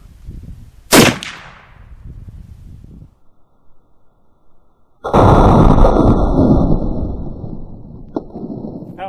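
A single sharp, loud report from a 450 Bushmaster rifle firing Hornady FTX ammunition at an outdoor range, with a quick decaying tail, followed by a long stretch of steady broadband wind or handling rumble.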